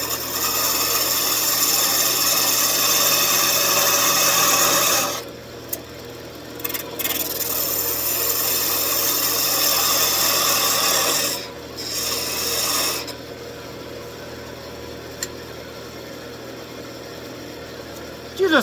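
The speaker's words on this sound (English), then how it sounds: "Use a smaller parting tool." A wood lathe turning a Christmas tree ornament, with a parting tool cutting into the spinning wood: a loud, close, rasping scrape that runs in long stretches, broken by two short pauses where the tool lifts off under the steady hum of the machine.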